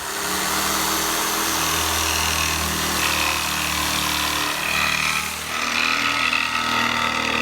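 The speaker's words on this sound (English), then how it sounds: "my hole drilled so I can take the jigsaw and finish it" A jigsaw cuts through plywood during a bathroom ceiling remodel, a loud continuous buzzing rasp with slight changes in pitch as the blade works through the sheet, close by and with no talking.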